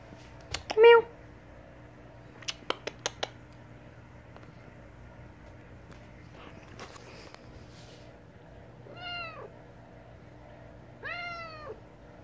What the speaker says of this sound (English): This is my cat, Abby.